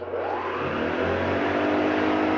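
A vintage Hoover 305 vacuum cleaner switches on and runs, its motor rising into a steady, loud whirring hum that holds close and continuous without any talk.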